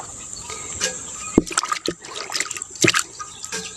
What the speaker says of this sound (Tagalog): bubuhusan ko na po ng tubig itong mga dahon na ito, itong gulay na ito guys, itong talbos ng kamote na ito